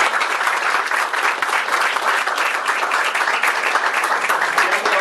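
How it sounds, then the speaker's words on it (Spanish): An audience at an organizational conference breaks into sustained, dense applause, many hands clapping steadily and evenly for several seconds with no break. "pido un fuerte aplauso por Mauro y su equipo"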